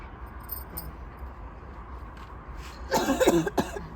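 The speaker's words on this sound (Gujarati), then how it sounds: "ખાંસી ખાંસી" A short burst of several coughs near the end, close and fairly loud, after a stretch of quiet room noise.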